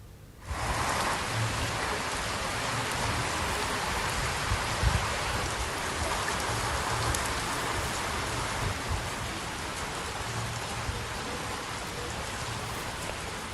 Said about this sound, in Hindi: सुबह से ही हल्की बारिश हो रही है